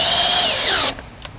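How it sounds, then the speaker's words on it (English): A power drill fitted with a 10mm socket whines at high speed while tightening a jack nut for a Hyundai i20N splitter kit, then cuts off abruptly, leaving quiet with a faint tap. "Grab your drill and 10mm socket"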